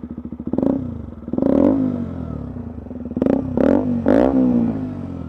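KTM motorcycle engine idling and revving up in a few strong blips, close and loud, with the pitch rising and falling between throttle bursts; no talk during the run.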